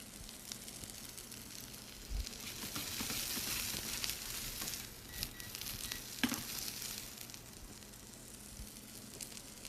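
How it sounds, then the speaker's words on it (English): Mushrooms saute in a pan with a faint, continuous crackling sizzle and an occasional soft clink, heard from a slight distance. "while I'm sauteing these mushrooms"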